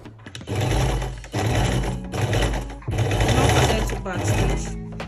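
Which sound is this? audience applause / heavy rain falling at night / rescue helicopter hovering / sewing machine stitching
sewing machine stitching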